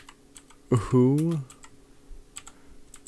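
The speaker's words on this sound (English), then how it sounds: "Apologies for slow typing. I'm doing it one-handed while I hold my microphone in the other hand." Computer keyboard keys are tapped slowly with one hand, a few sparse clicks around a short spoken word.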